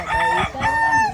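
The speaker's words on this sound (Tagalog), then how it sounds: "Gustong makita ng bisita namin yung manok." Rooster at a chicken farm giving a single loud, close crow lasting about a second, a strained, harmonic call that rises and holds.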